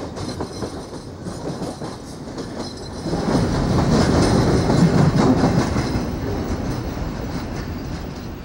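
A CSX freight train in 1995 hauling a string of rotary covered hoppers toward Tampa, rumbling steadily with rhythmic wheel clatter that grows louder as it passes close, then eases slightly, with no talking.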